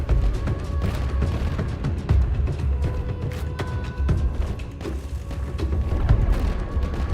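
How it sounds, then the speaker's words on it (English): Space-combat weapon fire in the video game Starcore, with a Nova Cannon shot hitting shields amid a dense, continuous barrage of booms, thuds and crackling impacts at steady loudness. "And a Nova Cannon shot from Spartan onto Squid. Hits the shields."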